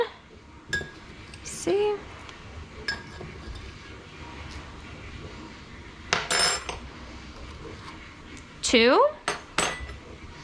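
A metal 1-tablespoon measuring spoon clinks and scrapes against a bowl while ingredients for chocolate chip cookies are measured, giving a few short separate chinks and rattles with one ringing clatter near the end, under brief speech.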